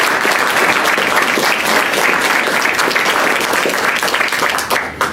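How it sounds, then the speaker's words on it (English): A large audience gives a warm, loud round of applause for an emergency management executive director, dense continuous clapping close and full, tapering slightly at the very end. "Let's give him a nice warm round of applause."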